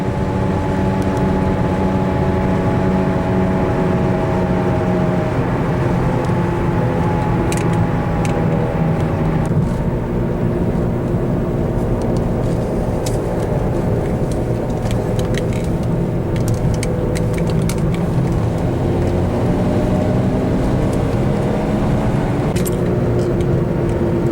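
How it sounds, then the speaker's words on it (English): Steady engine drone from inside a moving 2002 Pontiac Grand Am, with a low hum and faint rattles, its pitch shifting slightly over time. "all the other engine noise here"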